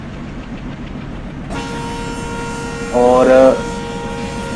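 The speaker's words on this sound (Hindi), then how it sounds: "यह कोई फ्राइट ट्रेन स्किप करती हुई साहिबाबाद रेलवे स्टेशन को विद सम ट्विन एल्को लोकोमोटिव" Freight train hauled by twin ALCO locomotives passing Sahibabad railway station in Indian Train Simulator, a steady engine hum with a loud horn toot for about half a second partway through, and a brief spoken word.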